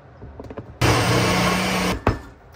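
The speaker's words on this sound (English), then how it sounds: "Now a honey drizzle. And then toss it back on the blender." A countertop blender whirring through almond butter and honey, one loud steady burst of about a second after a few quiet kitchen clatters, then cutting off with a short clunk.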